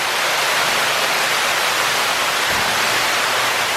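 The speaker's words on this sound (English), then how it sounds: "the little mushroom waterfalls I absolutely love" Small mushroom-shaped fountain waterfalls at a resort pool, a loud, steady splashing hiss of falling water on water, close and unbroken.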